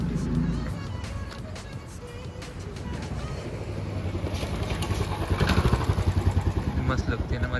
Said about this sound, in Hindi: मस्त लगती है ना हमारी बाइक चलती हुई।